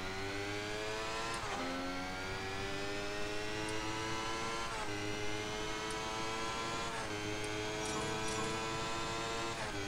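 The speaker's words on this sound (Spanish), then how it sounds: "Le metemos el coche a Fernando Alonso." A Formula 1 race car engine in a racing video game screams at high revs, rising in pitch through each gear and then dropping sharply on upshifts, with repeated shifts over a continuous loud drone and no talking.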